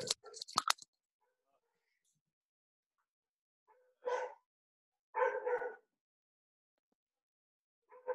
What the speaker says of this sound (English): We got three dogs and they love to bark.